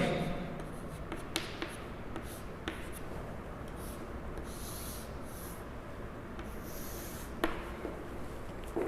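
Chalk or marker scratching steadily across a board during a trigonometry lesson, faint, continuous strokes broken by a few sharp taps, with no speech over it.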